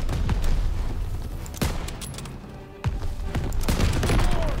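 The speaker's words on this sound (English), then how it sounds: "Grab a scoped rifle and take out those guns." Rapid scoped rifle fire and battlefield gunfire from the video game Call of Duty WWII, with sharp cracks over a steady roar of combat noise, loud and continuous.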